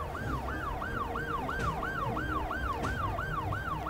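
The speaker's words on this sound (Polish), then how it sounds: "A to karetki, no dobra." Ambulance sirens wail in the Cities Skylines II city-building game, a steady repeating up-and-down yelp that holds throughout at moderate distance.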